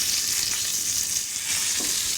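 A salmon fillet fries skin-side down in a hot pan, a loud, dense, even sizzle close by that holds steady throughout, with no talking.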